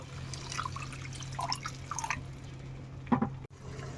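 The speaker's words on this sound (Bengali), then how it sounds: "এখন এখানে আমি যে জারটার মধ্যে আমি পেস্ট করেছিলাম সেই জারটার মধ্যে জল নিয়ে এখানে জল দিয়ে দিব" Water from a blender jar is poured into a frying pan of hot oil while paneer masala is cooked, giving soft close splashing and dripping over a low steady hum, with a sharper splash near the end.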